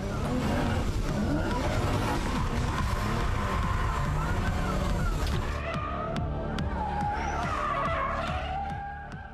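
Cars racing side by side through a Gymkhana Drift Cup course at an outdoor tuning show, engines roaring loud and continuous with tire squeal and revving bursts, fading slightly toward the end.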